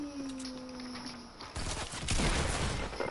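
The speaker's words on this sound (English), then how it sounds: "Oh, he shot me in the air," Bursts of gunfire in the video game Fortnite rattle out in a rapid fusillade that starts halfway through and grows louder, close and dense, over a quiet in-game background.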